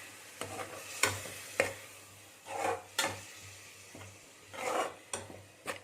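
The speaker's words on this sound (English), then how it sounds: "Let this saute for a little while." A utensil scrapes and stirs small potatoes for dum aloo against a pan in repeated strokes, with a soft sizzle of food cooking underneath and a low hum.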